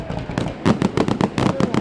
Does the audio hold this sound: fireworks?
yes